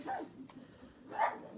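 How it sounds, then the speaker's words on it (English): A pet pug barks indoors, two short yips near the start and end of the moment, fairly close and moderate in loudness over faint room noise. "sorry about my dog, she's an attack pug."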